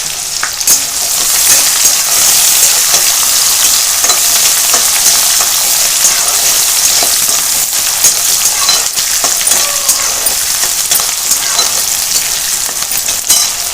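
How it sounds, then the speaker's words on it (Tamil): Shallots sauté in a pan for uppu kozhukattai with a loud, continuous sizzle and hiss, broken by scattered crackles and light clinks of stirring. "சின்ன வெங்காயத்தை கட் பண்ணி வச்சுருக்கேன், அதை போட்டு நல்லா வதக்கி"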